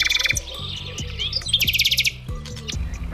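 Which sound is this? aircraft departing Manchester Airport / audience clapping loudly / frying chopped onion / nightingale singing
nightingale singing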